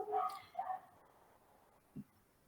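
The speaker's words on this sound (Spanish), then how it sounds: "tengo como en el barrio un sonido de perros que no sé si llega hasta sus casas" Several dogs barking in a residential neighbourhood, a few bursts of distant barks in the first second, then quiet with one short yelp near the end.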